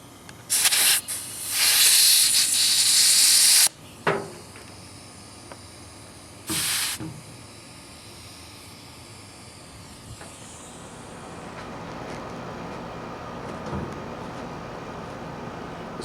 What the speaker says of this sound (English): Manufacturers ship their tires underinflated, so I check the pressure and inflate if needed.